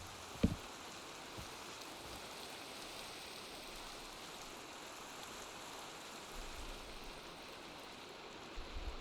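Video game rain falling steadily, a faint even hiss that continues unchanged, with a brief click near the start and no talk.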